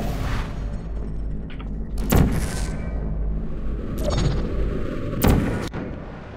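Several sharp portal gun blasts from the video game Portal, three distinct bursts spaced a couple of seconds apart over a low humming game background, no speech.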